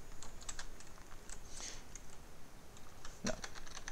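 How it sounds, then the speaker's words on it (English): Typing on a computer keyboard while writing a script, a run of light, close key taps at an uneven pace, quiet against faint room hiss. "we can come down one line and type print."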